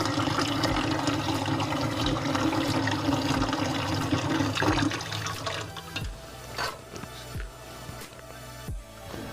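Cold water runs steadily from a tap for several seconds, then stops. A few clanks and knocks of metal pots follow close by.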